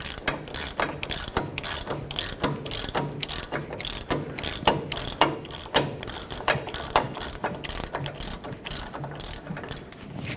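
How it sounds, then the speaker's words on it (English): An 18mm wrench and an 8mm socket turn a front sway bar link stud on a 2011-2016 Ford F-350 Super Duty, producing a long run of rapid ratchet clicks in steady bursts, close and clear, with no speech. "going to use my 18mm wrench and an 8mm socket on the end of this stud."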